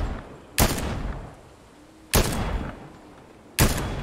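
Three sharp gunshots in the Fortnite video game, spaced well apart at irregular intervals, each a loud crack with a short decaying tail over a steady game background hum.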